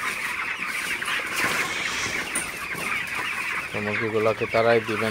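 Broiler chickens crowded in a poultry shed during hot weather give continuous busy clucking, with a louder bird calling close by near the end while someone talks over them.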